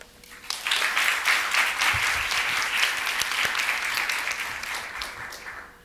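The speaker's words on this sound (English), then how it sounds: "Big round of applause to yourselves" Steady applause from the audience for youth competition participants at a Thailand MICE event, rising quickly into a full, even burst of many hands clapping, then tapering slightly toward the end.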